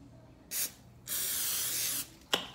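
Cooking spray is spritzed onto a parchment-lined bread pan for banana bread, with a short hiss, then a longer steady hiss of about a second, then a final quick burst, close and clear.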